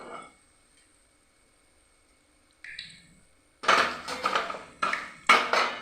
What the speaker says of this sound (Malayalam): ഈ രീതിയിലാണ് ഇത് വറുത്ത് കോരുന്നത്.